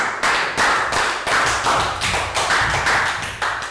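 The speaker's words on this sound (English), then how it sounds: "Round of applause for Nadia" A small group in a classroom claps for a pupil named Nadia: quick, uneven bursts of hand claps in a brisk rhythm, close and fairly loud with no talking over them.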